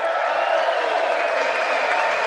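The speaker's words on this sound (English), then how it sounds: "See how much clapping? I mean, this is ridiculous. Look at the clapping." Members of Congress applaud President Trump's State of the Union address in a steady, dense wash of clapping from a large chamber crowd, sustained evenly throughout with no break.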